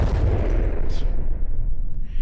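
A frag shell fires at a Scarab bomber in a flight combat video game. It makes one heavy, booming blast that rumbles loud and close, then fades out.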